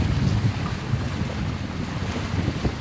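Strong gusting wind at sea on a fishing boat in big waves, a loud continuous roar and buffeting across the microphone with low rumble, steady throughout, no voices.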